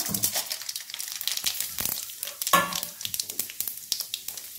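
Mustard seeds, cumin and chana dal crackle in hot oil for a tempering, sharp rapid pops and bursts of sizzle in an irregular close patter, no one speaking.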